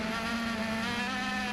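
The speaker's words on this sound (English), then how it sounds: "Then just listen to the throttle." An IndyCar at Sao Paulo Indy 300 practice holds a steady, high, buzzing engine drone at constant throttle, heard from a distance without breaks.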